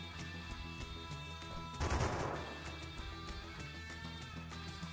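Gunfire in the video game Arco, a short burst of shots peaking near the middle over a steady backdrop of game music and ambience, moderately loud with no talking.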